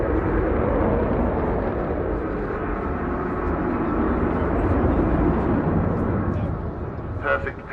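The Avro Vulcan XH558 bomber displays at the Bournemouth Air Festival 2015, producing a steady, loud, broadband jet roar that fills the whole stretch with an announcer talking over it.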